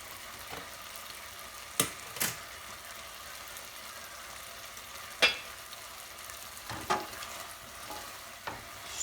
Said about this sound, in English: Stir that rice. Don't get lazy on that stirring.